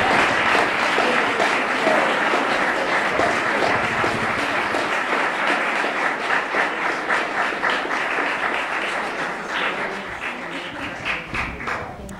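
Audience applause at an award ceremony for young fellows, a full, sustained crowd clapping that runs steadily and tapers slightly toward the end, with no talk over it.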